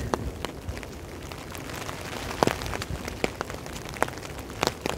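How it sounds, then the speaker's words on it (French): Rain falling outdoors in a steady, close patter, with scattered louder drops and ticks over a soft continuous hiss. "Il pleut"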